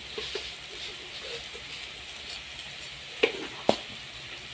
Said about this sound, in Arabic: وهستمر برضو في التقليب